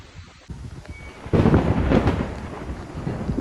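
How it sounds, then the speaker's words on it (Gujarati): Deep rumbling thunder rolls in and builds during a windstorm under a cloud-filled sky, with wind buffeting the microphone steadily throughout; no voices. "વીજળી થાય રહી, પવન ચાલુ છે."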